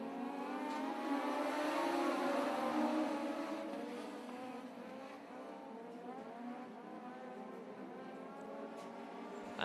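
Race cars leading to the green flag in a heat race at Benton County Speedway in Iowa, a dense field of engines droning and revving together, loud at first then easing slightly as the pack moves off.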